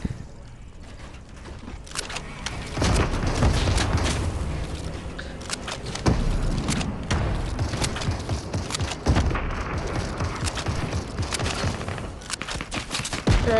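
Rapid bursts of gunfire from an overpowered shotgun in a toxic online shooter game, loud sharp blasts recurring irregularly over continuous game noise and footsteps.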